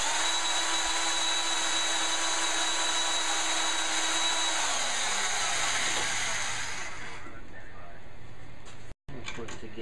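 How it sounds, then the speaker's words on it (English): A power drill runs with a steady high whine during rewiring work on a 1970 Sears tractor, holding for several seconds before winding down and cutting out, then a brief thump. "I don't have any room to put my hand behind the drill."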